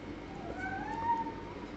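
A cat meows indoors, a single drawn-out, rising and falling call over a low steady room hum, moderately close and fairly quiet, with no talking.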